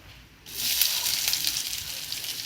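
Spices for tempering a coconut-milk-free dhal curry, such as onion, garlic, curry leaves and rampe, hit hot oil with a sudden loud sizzle, then settle into a steady, close, bright frying hiss.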